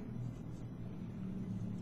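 Road traffic hums outside on a busy morning. A low, steady, distant rumble of passing cars stays faint and continuous for the whole stretch, with no voices over it.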